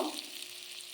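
Beans and shrimp fry with turmeric in a hot pan, giving a steady, close sizzle with light crackling.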